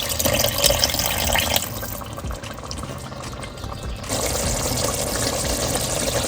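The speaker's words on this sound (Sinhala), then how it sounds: "අපි මේකට වතුර කෝප්ප භාගයක් එකතු කරගන්නවා." Water is poured into a pot for basmati rice biryani, a loud steady rushing pour that softens for a couple of seconds and then resumes.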